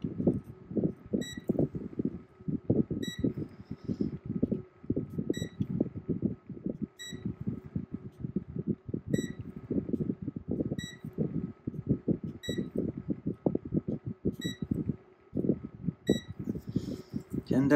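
Multimeter in diode-test mode beeping while checking the diodes on a keyboard build: about ten short, evenly spaced high beeps over steady talking and a faint background hum.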